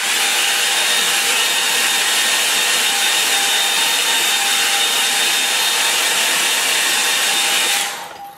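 A hair dryer blows loud and steady over a watercolour painting for several seconds, with a constant whine and rushing air, then winds down as it switches off.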